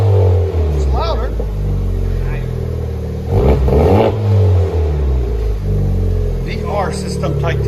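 A 2021 Honda Civic Type R with a VR Performance titanium valvetronic exhaust revs repeatedly, the exhaust note climbing and dropping in loud, close bursts with a steady idle rumble between them.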